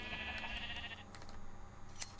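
Sheep bleat in a modded farming video game, a steady layered bleating held for about a second, then fainter game noises and a brief bright chime near the end, with no talking.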